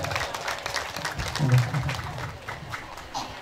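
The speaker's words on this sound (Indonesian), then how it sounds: "Boleh tepuk tangannya" A crowd claps for a few seconds amid room noise, with voices talking nearby, at an Islamic boarding school student event.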